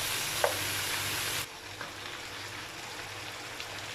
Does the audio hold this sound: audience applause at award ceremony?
no